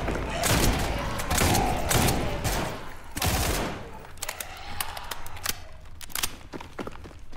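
Heavy shotgun blasts and bursts of gunfire boom through a wave defense fight in SCP 5K, loud close shots crowding the first half before thinning into scattered cracks and thuds, with voices talking faintly underneath.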